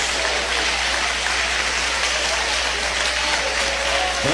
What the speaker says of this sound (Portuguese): Eu quero ouvir palmas misturado com glória a Deus.